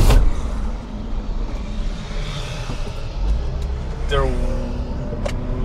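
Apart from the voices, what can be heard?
Mazda RX8 car accelerating on track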